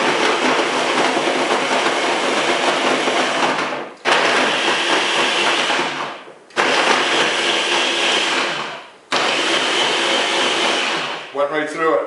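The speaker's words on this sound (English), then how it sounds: "Put the power head on the blender" A powerful blender blends a fruit shake, roaring loudly in three long bursts separated by short pauses, ending with a few brief pulses.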